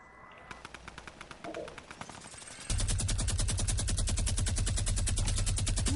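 Minigun fire in the Fortnite video game, a dense rapid buzz of rounds that starts in short bursts then swells into a loud continuous roar.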